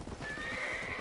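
A horse in the Red Dead Redemption video game whinnies once, loud and close, a drawn-out neigh lasting about a second with no talking.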